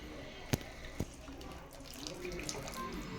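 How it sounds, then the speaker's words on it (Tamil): Water pours steadily into a pot of village-style ground-masala fish curry (meen kuzhambu), a continuous splashing stream broken by a couple of sharp knocks near the start. "இப்போது குழம்புக்கு தேவையான அளவுக்கு தண்ணி சேர்த்துக்கலாம்."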